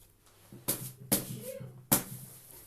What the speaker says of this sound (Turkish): ekmek poşetiyle oynuyorum